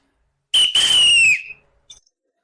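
A single loud, clear whistle from a preacher delivering a French-language sermon, sustained for about a second with a slight falling pitch at the end, followed by a faint brief chirp.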